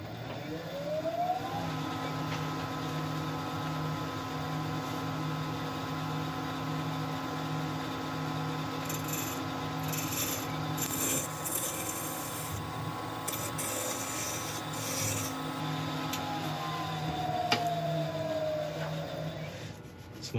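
A wood lathe turning very heavy, dense wood gives a steady mechanical hum with a sustained rotating whine, rising slightly at the start as the speed is increased and easing toward the end, with faint rubbing noise of smoothing over it.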